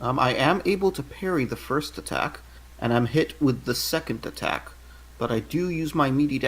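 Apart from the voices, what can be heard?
No everyday noise stands out behind the speech.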